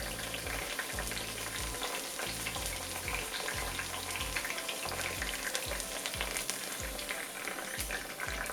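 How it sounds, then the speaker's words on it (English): Okra sautéing in about half a cup of olive oil, a dense, even sizzle and crackle that runs throughout at close range, along with a rhythmic low thumping underneath and no speech. "We're gonna cook the okra in about a half a cup of olive oil, saute it briefly"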